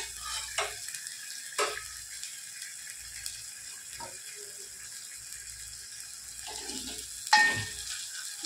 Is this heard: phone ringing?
no